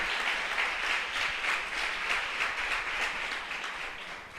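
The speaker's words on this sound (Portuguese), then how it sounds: "Você pode aplaudir o Senhor?" A church congregation applauds during a sermon, a dense, steady wash of many hands clapping together at moderate distance, with no speech over it.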